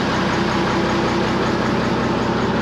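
A Ferret armoured car's engine idling, a steady, loud, low rumble that runs unbroken and alone throughout.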